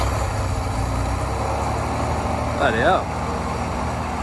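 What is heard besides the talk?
Holden panel van engine starting and idling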